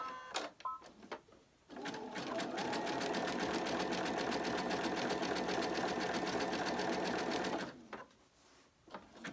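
A sewing machine stitches appliqué around a tree shape in one steady, fast whirring run of about six seconds, close and clear, with a few handling clicks before and after.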